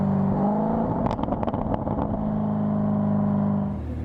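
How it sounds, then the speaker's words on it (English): A 2019 Chevrolet Corvette ZR1 Convertible exhaust revving hard: a loud, sustained engine roar with a burst of rapid crackling pops in the middle, then a steady high drone that eases off at the end, with no talking. "this is the loudest, most aggressive sounding production Corvette ever"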